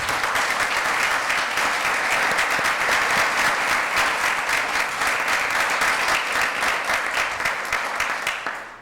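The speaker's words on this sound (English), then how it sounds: "I think we should give them a round of applause" Sustained, enthusiastic clapping from a conference audience for four panelists at a freedom-to-marry discussion, dense and even throughout, tapering off right at the end, with no voices over it.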